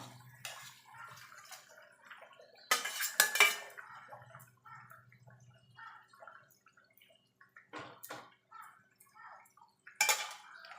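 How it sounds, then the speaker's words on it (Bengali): Koi fish dropped into a pot of boiling potato and cauliflower curry: a few sharp clattering splashes and metal pot knocks, separated by quieter stretches of low bubbling simmer. "মাছের জল ফুটে গেছে আলু ফুলকপিটাও সিদ্ধ হয়ে গেছে এবার মাছগুলো দিয়ে দেবো"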